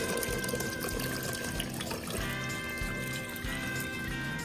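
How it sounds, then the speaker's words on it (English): Water pouring steadily into a pressure cooker pot, a continuous close splashing stream with no talking. "Up next, I'm adding 4 cups of water"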